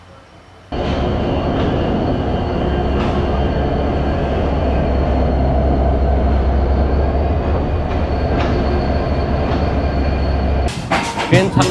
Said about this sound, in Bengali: ট্রেন ছাড়লো 1টা 5-এ। আমরা রাজশাহী থেকে বের হয়ে যাচ্ছি চাঁপাইনবাবগঞ্জের উদ্দেশ্যে।